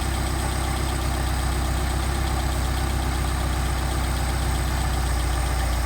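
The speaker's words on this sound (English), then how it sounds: "You hear the idle pick up, and it'll drop off again if we go too far." An engine with a rebuilt Solex carburetor idles steadily and loudly while its mixture screw is adjusted, a continuous close mechanical drone with no talk.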